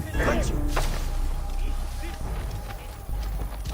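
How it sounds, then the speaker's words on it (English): Horse hooves in the video game Assassin's Creed Origins clatter in a quick clip-clop rhythm close by, mixed with game sounds and a voice talking over them. "This must be Mered's horse."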